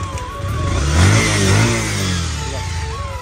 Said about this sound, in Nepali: कसरी स्टार्ट हुन्छ बाइक